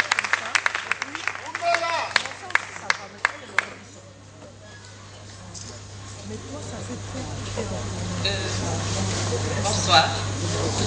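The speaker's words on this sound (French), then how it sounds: "Sous vos applaudissements." A scattered round of audience applause at an NGO event in Makala, with sharp individual claps up front that thin out and stop, leaving a quiet hall with low hum and faint murmuring.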